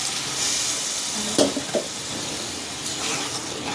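A steady, close sizzle of ground masala paste frying in a hot pan for egg curry, with a couple of brief clinks of stirring partway through.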